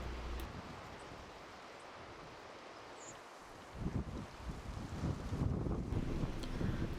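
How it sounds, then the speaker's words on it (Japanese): Strong seaside wind gusts buffet the microphone in a low, rumbling roar that swells louder midway and keeps blasting, with a faint wash of surf beneath and no voices. "今日一番の突風っていう感じで立ってるのもやっとなくらいです"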